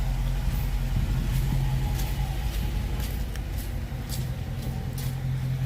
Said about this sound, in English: Daytona 392 driven in the snow in New York City.